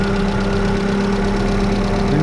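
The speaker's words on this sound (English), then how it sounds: "AC compressor is moving now" A Chevrolet Spark (Daewoo Matiz) idling with its AC compressor engaged during a refrigerant recharge, giving a steady, loud, continuous engine drone with a constant mechanical hum close by and no talking.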